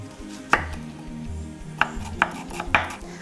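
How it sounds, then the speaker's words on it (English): A knife chops small onions in a kitchen with a handful of sharp, uneven strikes on a board, close and crisp over faint background music. "I start by chopping my onions."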